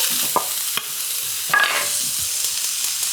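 Onions and garlic sizzle in a freshly oiled pan, a bright hiss that runs steadily, broken by a few sharp clinks and scrapes of stirring, close and fairly loud.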